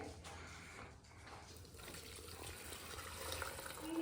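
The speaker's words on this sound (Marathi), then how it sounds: "तर आता हे मी पाणी काढून घेते आहे" Water drained off cooked lentils (dal) makes a faint steady pouring and trickling, slowly growing a little louder over a few seconds, without speech.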